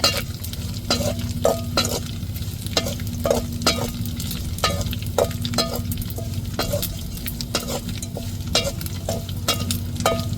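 Dried anchovy karuvadu frying in oil with dried red chillies, a dense crackling sizzle close up, punctuated by frequent sharp scraping taps of a spatula in the pan throughout.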